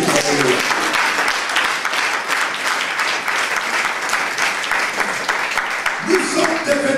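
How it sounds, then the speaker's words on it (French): A church congregation applauds during a sermon, sustained dense clapping throughout, with a few voices briefly audible at the start and near the end. "Applaudissons Jésus."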